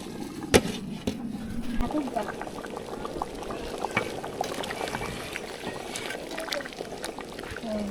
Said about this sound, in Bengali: খিচুড়ি রান্না প্রায় হয়ে আসতেছে, চাল সেদ্ধ হওয়া শুরু করেছে